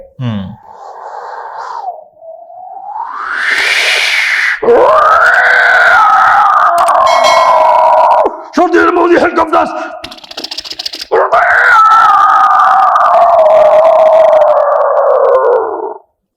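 A ventriloquist mimics Jurassic Park dinosaur sounds by voice: loud, sustained roaring and screeching calls in several long bursts with brief breaks, close and alone.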